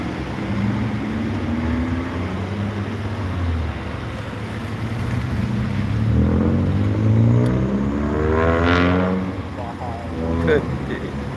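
A bus rolls into the Alang-Alang Lebar bus terminal in Palembang, South Sumatra, its engine droning and rising in pitch as it approaches, with a person talking over the steady traffic noise.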